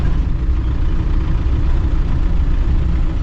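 A classic Land Rover Defender's engine drones steadily while driving with manual gear shifts, a loud, low, rough rumble filling the cabin without pause and with no voices.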